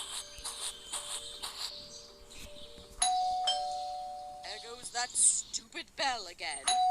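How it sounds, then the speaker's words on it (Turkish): An electronic doorbell chime in the game Scary Teacher 3D rings once, its tone lingering and slowly fading, while a voice talks before and after it. "Yukarı çıkacak ve zile basacağız"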